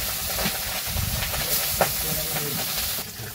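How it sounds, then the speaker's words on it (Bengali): Pabda fish coated in turmeric, chili and salt frying in oil in a village kitchen: a continuous hissing sizzle with a few small pops, moderately loud and close. "ওইদিকে মাছ ভাজতে দিছে"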